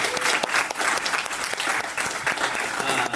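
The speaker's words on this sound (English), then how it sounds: "Let's get a round of applause for our Lit Crawl." An audience claps loudly and continuously at a literary crawl reading stop, a dense steady applause filling the whole stretch without speech.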